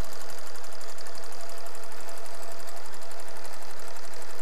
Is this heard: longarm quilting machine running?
yes